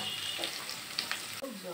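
Onions fry in a pan until light brown with a steady close sizzle, with a few stirring clinks and a faint voice near the end.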